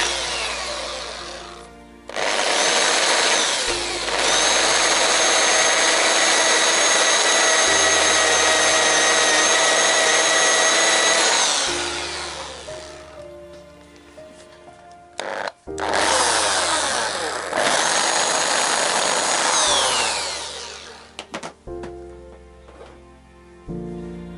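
A cheap Parkside power drill whines at high speed in long bursts, stopping briefly and starting again, loud and close with no talking, as it burns out.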